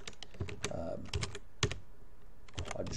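Computer keyboard typing in quick irregular bursts of clicks, close and clear, with a short pause in the middle and someone speaking briefly around it.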